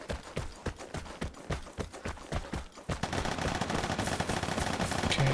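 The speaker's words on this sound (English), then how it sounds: "A lot of shooting here." Rapid gunfire in the PS5 shooter Vigor with an M14 rifle, a loud run of sharp shots, spaced at first and then merging into dense continuous firing.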